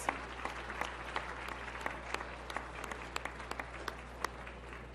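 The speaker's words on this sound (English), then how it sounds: "Let's give them a round of applause." An audience applauds at a university athletics hall of fame ceremony brunch, steady crowd clapping with distinct individual claps standing out, against a low constant hum.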